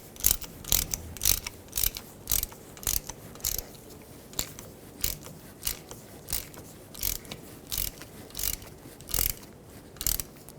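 A ratchet tightening a bolt during a rear wheel bearing replacement on a 2009–2011 Ford F-150, a steady series of crisp clicking strokes in regular rhythm, close and clear with no talking.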